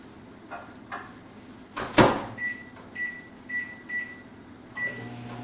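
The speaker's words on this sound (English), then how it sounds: "what I'm going to do is put it in the microwave for a couple minutes just to take the chill off" A microwave oven being loaded with chilled potato celery root soup: a solid door thud, then a run of short, evenly spaced keypad beeps, close and fairly quiet, with no talking.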